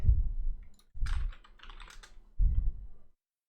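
Short bursts of typing on a computer keyboard during a CS:GO community market search, with quick close key clicks separated by brief pauses.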